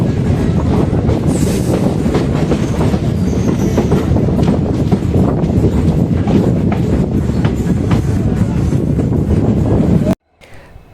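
A train standing at Punalur station while a banker locomotive is coupled to its rear, with a continuous loud rumble and clatter that cuts off abruptly near the end.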